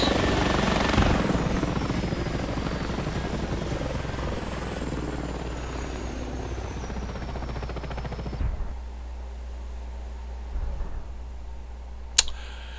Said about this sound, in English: this is a quick down and dirty look at this nice helicopter